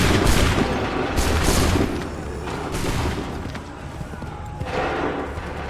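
Musket volleys crackle in Assassin's Creed III, a dense ragged fusillade of overlapping shots rolling across several seconds, loud and close with shouted commands mixed in.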